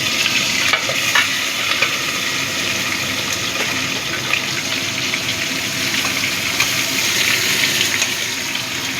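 Prawns frying in well-heated oil for a Bengali chingri malai curry: a loud, steady, close sizzle with dense spattering and crackle that runs unbroken throughout, with no voices.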